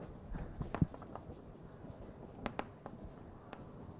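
Chalk writing on a blackboard during an algebraic geometry lecture, a series of quiet taps and short scratchy strokes, close and without talk.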